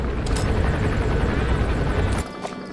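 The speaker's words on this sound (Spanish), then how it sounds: "El helicóptero sí, lo escucho." A helicopter approaching in the video game Metal Gear Solid V: The Phantom Pain. A loud, steady rotor roar fills most of the clip, then drops away abruptly near the end.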